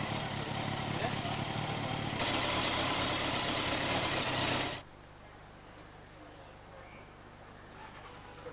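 A motorbike engine that has just been repaired runs loud and steady close by, then the noise drops sharply to a quieter, lower idle that continues to the end.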